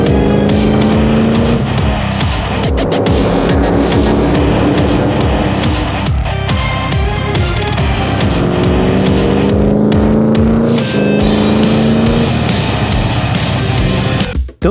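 Cars drive close together in a car-to-car action run, their engines a loud, continuous roar that rises and falls with gear shifts, passing whooshes along the way, and no voices.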